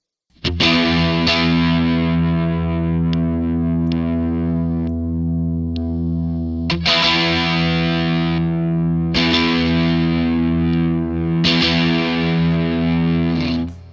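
Electric guitar through The Bandit gain pedal in its third, highest-gain switch position plays heavily distorted, thick chords that ring out long, restruck a few times with sharp pick attacks, loud and close with no talking.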